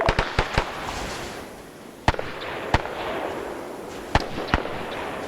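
Sporadic gunfire in a military video game with US paramarines attacking Japanese gun emplacements: sharp, fairly close shots scattered irregularly over a steady wash of background noise, with no talk.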